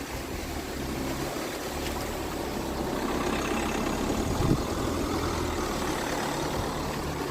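A Tata Safari's engine rumbles low and steady while its rear tyre spins, with a watery wash underneath and no one speaking.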